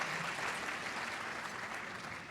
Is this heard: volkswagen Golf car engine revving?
no